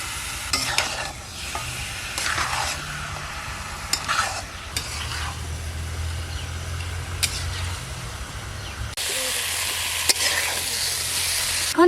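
Country red chicken meat and spice paste fry in a village kitchen pan, a steady broadband sizzle with scraping stir strokes that get busier and louder toward the end; no talking.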